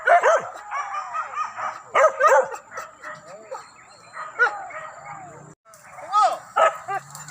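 Hunting dogs bark and yip repeatedly during a wild boar hunt in Solok, West Sumatra, with bursts of overlapping barks coming close and loud. Voices shout and talk between the bursts.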